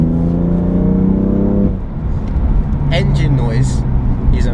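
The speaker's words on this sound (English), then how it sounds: "Engine noise is a must." A BMW M4 Competition's S55 engine revs up loudly from inside the cabin, a steady harmonic drone rising in pitch, then dropping into a rough rumble as the gear changes.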